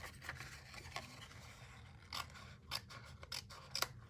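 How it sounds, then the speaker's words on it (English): Scissors snipping and trimming excess card paper while making a St Patrick's Day card, with quiet scraping cuts in a few separate close strokes. "I'm just trimming this off."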